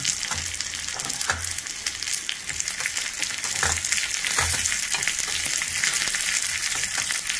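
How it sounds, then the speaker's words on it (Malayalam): Sliced shallots fry in hot oil with green chilies and curry leaves for a bottle-gourd curry, giving a dense, steady sizzle broken by regular spoon-stirring scrapes, close and fairly loud, with no talking. "ചെറിയുള്ളി മൂത്ത് കഴിയുമ്പം പച്ചൽ മുളകും കറിവേപ്പിലയും കൂടെ ഇട്ട് കൊടുക്കാം"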